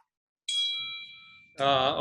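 A phone notification chime rings out as a sustained, bright ding that fades over about a second, followed by a louder second tone; no speech.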